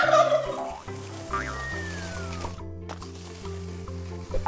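A cartoon turkey gobbles in a loud, rapid warbling burst over a bouncy musical backing, followed by a sliding whistle and steady tune.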